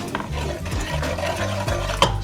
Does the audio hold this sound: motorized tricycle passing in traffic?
no